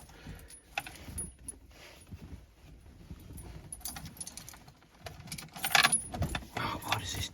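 Keys jangle and clatter in the ignition of a 33-year-old budget campervan, a scattered metallic rattle that grows louder and busier toward the end, with faint low rumbling underneath and no talking.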